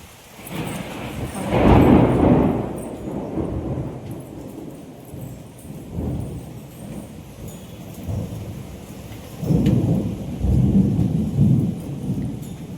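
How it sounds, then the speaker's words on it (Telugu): Heavy monsoon rain pours steadily while deep thunder rumbles roll in repeated swells, loud and close, with no talking. "వర్షం కూడా స్టార్ట్ అయింది, ఉరుముతుంది బాగా. దారుణంగా పడుతుంది వర్షం."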